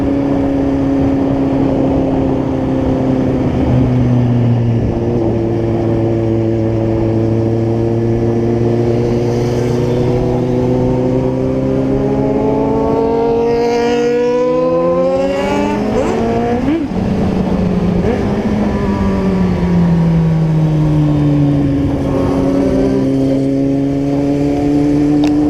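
A Kawasaki Z-750 motorcycle engine revs loud and close, its pitch climbing and falling through several throttle sweeps, with one sharp blip near the middle and the steady drone holding throughout.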